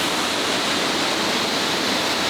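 A waterfall in the Bali jungle pours a heavy, constant roar of rushing water, close and loud with no break and no voices.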